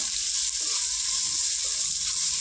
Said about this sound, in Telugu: వీటిని ఒక ఫైవ్ మినిట్స్ ఇలా ఫ్రై చేసుకుందాం